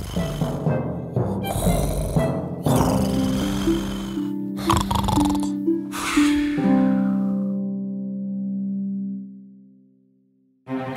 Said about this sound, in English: the young man knew that he had to make some snoring noises